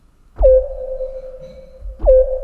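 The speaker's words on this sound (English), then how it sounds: "it sounds like a submarine sonar ping" Two synthesized pings, each a sharp attack settling into a long steady tone, spaced about a second and a half apart, echoing like sonar.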